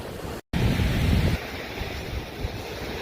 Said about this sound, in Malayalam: കോഴിക്കോട് ബീച്ചിൽ ഇങ്ങനെ തേരാപ്പാരായി നടക്കുകയാണ്.